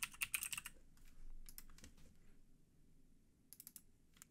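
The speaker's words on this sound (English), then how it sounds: "Now we can type in that user that we just created in the auth file." Quick bursts of typing on a computer keyboard as a username is entered, crisp clustered key clicks in short runs separated by pauses, close and alone.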